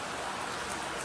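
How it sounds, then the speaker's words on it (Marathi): Rain falling outdoors, a soft, even wash of drops heard for just over a second at low level, with no voices. "तर मित्रांनो आता पाऊस पडतोय, सो कधी थांबेल आय डोंट नो."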